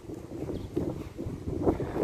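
Low, gusty wind buffeting the microphone outdoors in a park, rumbling in uneven surges for a couple of seconds with no voices.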